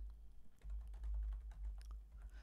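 Typing on a computer keyboard while entering text into a spreadsheet macro dialog, heard as a quick, faint run of soft key taps over a low background hum.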